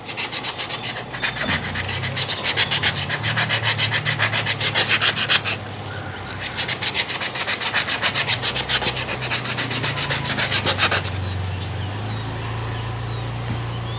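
Coarse sandpaper scrubs the casing of an old salvaged Cosmos electric motor in rapid back-and-forth strokes, loud and close, with a short pause midway and a steady low hum underneath.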